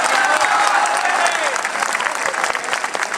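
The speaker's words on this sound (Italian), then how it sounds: "un applauso a Luca Zaia" Crowd applause at a political gathering in Bassano del Grappa, Veneto, a dense burst of many hands clapping that stays loud and gradually thins, with no one speaking over it.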